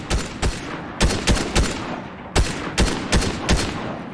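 Bursts of Fortnite gunfire crack out in short clustered volleys, a few sharp shots at a time with brief pauses between, loud and close with no talking.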